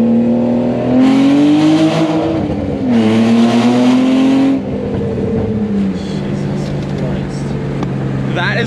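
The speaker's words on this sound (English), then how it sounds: "the only car I've ever had that is louder than that was Ryan's Accord" Loud Nissan Altima engine droning and revving as the car drives under an overpass, a heavy close exhaust roar that swells in pitch and rumbles steadily throughout.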